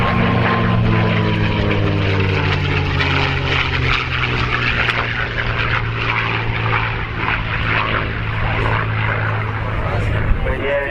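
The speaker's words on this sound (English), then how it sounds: "When the aircraft comes into landing attitude and the nose gets higher and higher" A propeller fighter aircraft comes in to land at an airshow, its engine droning loud and steady throughout with a low, even hum and no breaks.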